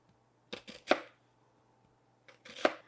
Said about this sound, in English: we're going to cut our onion in half, and we're going to make thin strips.